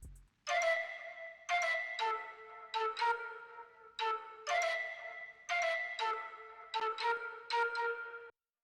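A light, bouncy melody built from Earthy Koala and the Omnisphere Flute Heavy patch, played as short airy phrases with gaps between them, clear and alone.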